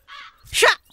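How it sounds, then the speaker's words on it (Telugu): A single harsh caw rings out close by after a brief, softer tonal call, with silence around them. "పాడు కాకులు"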